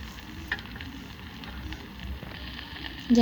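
Turmeric, chili powder and salt sizzle quietly in a pan with a soft, continuous crackle, then a little water splashes in near the end and the hiss briefly swells louder.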